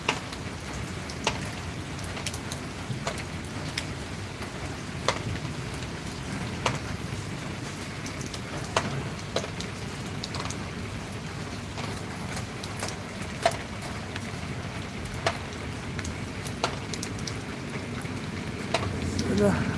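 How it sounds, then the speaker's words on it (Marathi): Heavy monsoon rain pours steadily outside in the morning, a dense, even hiss with scattered sharp drips and taps running throughout, and faint voices beneath it. "बाहेर भरलाय बघा तिकडे पाऊस भरलाय"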